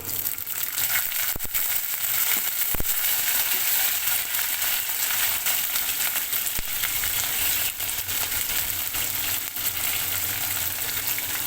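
Potatoes and sliced green chili fry in hot oil, a loud, dense, continuous sizzle heard close up, with occasional stirring scrapes and no voices.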